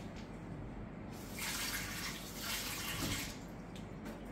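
A cloth being soaked in water before scrubbing oxidation off mouthpieces, heard as a steady close splashing, sloshing water sound that swells louder in the middle and then settles, with no talking.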